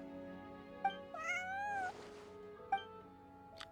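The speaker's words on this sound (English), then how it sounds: "Meow. Meow, meow." A cat meows several times in Genshin Impact, clear and close, with short chirping calls and one longer drawn-out meow, over a quiet tonal background.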